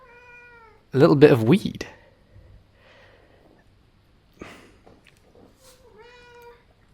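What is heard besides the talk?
cat meowing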